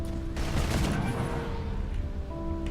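Rapid gunfire in Deep Rock Galactic, a dense burst of shots aimed at alien creatures, loud and close, then tapering into rumbling after about two seconds.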